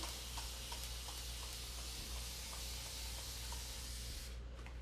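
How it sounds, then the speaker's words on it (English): A continuous hiss of water being sprayed, steady and close, holding at an even level before cutting off near the end. "I literally just sprayed this with water"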